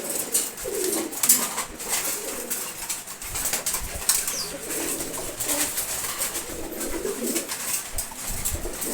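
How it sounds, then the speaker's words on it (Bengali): A pair of Giribaz pigeons coo in a morning feeding setting, low murmuring calls close by with occasional faint chirps and rustling. "এখানে এক জোড়া গিরিবাস কবুতর আছে।"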